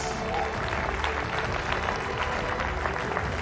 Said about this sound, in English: please put your hands together for the one and only, the inimitable, the urban monk, Gaur Gopal Das